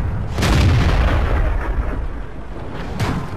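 Tank shells fire in World of Tanks as heavy booming blasts, one big rumbling report near the start and another toward the end, with a loud low roar filling the space between them.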